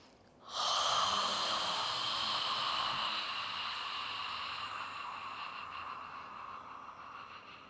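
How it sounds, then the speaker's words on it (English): A long, breathy inhalation through an open mouth during a Traditional Chinese Medicine healing sounds exercise, starting abruptly and hissing softly before gradually fading, close and quiet with no talk. "take a breath in"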